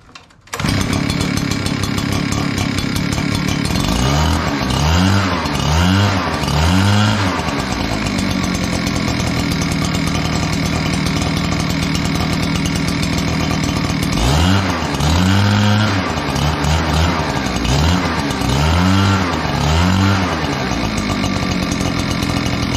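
An Echo PB9010T backpack leaf blower engine, carburetor freshly adjusted, fires up quickly from cold after a single pull and runs loud and close, revving up in two bursts of rising and falling throttle between steady idling.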